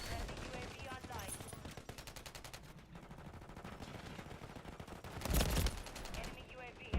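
Rapid bursts of automatic gunfire crackle almost without pause through a firefight in Call of Duty: Modern Warfare 3, with a heavier, louder volley near the end.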